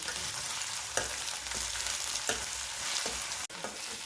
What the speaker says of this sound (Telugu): ఉల్లిపాయలు వేగిపోయాయి, అల్లం వెల్లుల్లి పేస్ట్ కూడా వేగిపోయింది